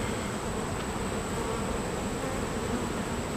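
Honeybees humming steadily around an open hive during a routine inspection, a dense continuous buzz with a faint high whine, no talking.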